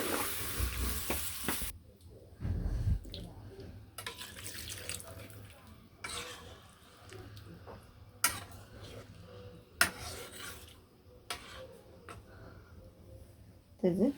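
Hot water is poured into a pot of meat curry in a village kitchen, giving bursts of splashing and running water between quieter stretches, with someone talking over the cooking.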